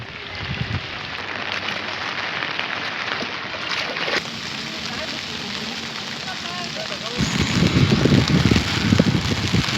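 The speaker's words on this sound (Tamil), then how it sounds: "பலத்த காற்றுடன் வெளுத்து வாங்கிய கனமழை" Heavy rain whipped by strong wind, a dense hiss and roar of pouring water with gusty surges that gets louder and rougher toward the end, under a voice speaking.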